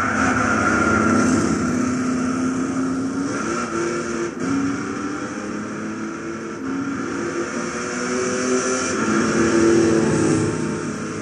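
A 1970 Dodge Charger 440 R/T doing a burnout in Gran Turismo 6 at Tsukuba, a steady sustained engine roar with tire squeal running throughout, no voices.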